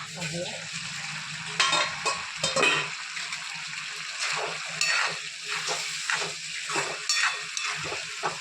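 Ridge gourd with masoor dal and chilli powder is stirred in a frying pan, soft sizzling under repeated scraping and clinking strokes of a spoon, uneven bursts close by.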